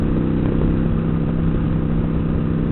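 Kawasaki Vulcan 900 Classic LT motorcycle engine at highway speed around 65–70 mph, a steady, loud, continuous low drone with a slight rise as it revs, wind and road rumble mixed in, no voices.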